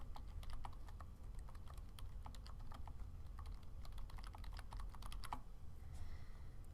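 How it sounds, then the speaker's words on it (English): Fingers type a question on a computer keyboard in a quiet room, giving irregular, light key clicks in quick bursts over faint background hum, with no one speaking. "I can type my question in here"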